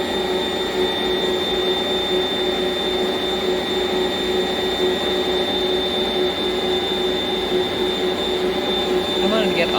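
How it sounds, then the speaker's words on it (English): A stand mixer kneads bread dough for Halloween rolls at a higher speed, giving a steady, loud motor whine with a constant hum that runs unbroken throughout. "So I pick up my speed here in the mixer."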